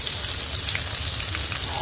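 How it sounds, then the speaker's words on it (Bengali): Cumin seeds and dried red chillies frying in hot tempering oil, a short burst of close, bright sizzling and crackle with no voices. "এখন ফোড়নে গেল জিরে শুকনো লঙ্কা, তারপর ওটা ভাজা হোক"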